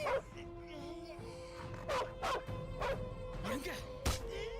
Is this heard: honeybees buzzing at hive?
no